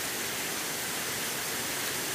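Waterfall at Lee Falls in South Carolina, a steady broadband roar of falling water that stays loud and even throughout with no voices.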